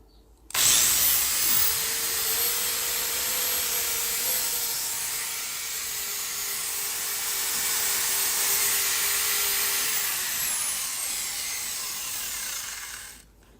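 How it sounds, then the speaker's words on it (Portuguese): An electric drill powered through a sine wave inverter runs steadily for about twelve seconds, a loud continuous whirring whine that starts abruptly and cuts off near the end, with no talking. "Vou ligar uma furadeira para você ver, ó."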